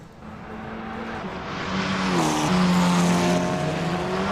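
F4 race cars lapping Laguna Seca in reverse in a racing video game, one engine rising in pitch as it accelerates through the corkscrew, loud and close, with several gear-shift steps and other cars droning underneath, no talk.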